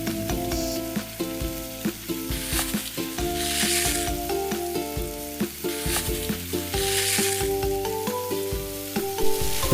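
Crushed sardines fry in a pan with a loud, continuous sizzle and crackle, with stirring strokes and faint tonal background music underneath.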